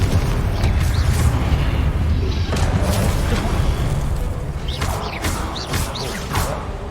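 Fiery blasts and crackling magic impacts from the Hogwarts Legacy fire spell Confringo, loud rumbling bursts with sharp whooshing streaks layered over a dense combat roar, continuing through the whole stretch without talk.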